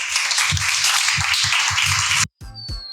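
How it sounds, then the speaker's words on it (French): An audience at a live role-playing event on a barge applauds, a bright dense wash of clapping that holds steady before cutting off abruptly, followed by a few scattered claps and thumps. "On peut les applaudir bien fort."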